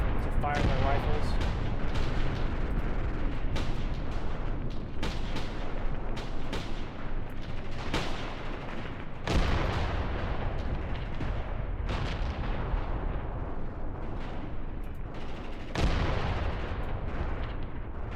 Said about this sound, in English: The barrage is still going on.